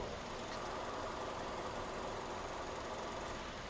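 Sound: car engine idling, heard at grille

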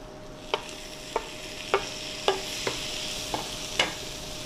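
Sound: chopped tomatoes being stirred and fried in a pan

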